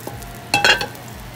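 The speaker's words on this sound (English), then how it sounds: "Now I will just transfer this onion, garlic saute in this pan." Onion and garlic hit a hot pan and sizzle in a short loud burst of frying, with a brief clatter of stirring, close up and without talk.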